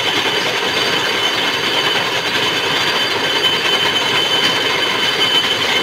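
A brake disc turning machine runs with a constant, loud metallic whirr and grinding hiss, steady and unbroken from start to finish, with no voices.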